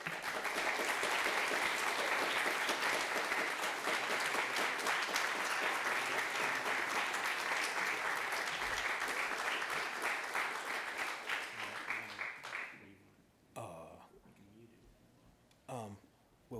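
Sustained, dense applause from an audience welcoming a poet at a Grinnell College reading, loud and steady for about twelve seconds before fading, followed by a few scattered sounds and brief talk.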